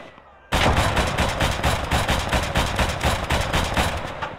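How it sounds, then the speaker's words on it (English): Mortar and artillery fire in the Gates of Hell war game, bursting in suddenly as a loud, rapid run of repeated booming blasts that rolls on steadily without pause. "Mortar's been pumping away, I think."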